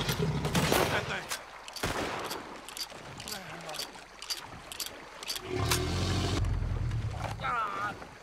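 Scattered gunshots crack in Red Dead Redemption 2, several sharp bursts over a boat's engine and water noise, mixed with rumbling game sounds.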